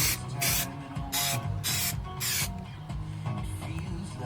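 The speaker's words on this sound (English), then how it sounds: "Enjoying that spray adhesive." Spray adhesive hisses out of an aerosol can inside a 2022 Sprinter 170 van during insulation work, in four or five short close bursts with brief gaps between them.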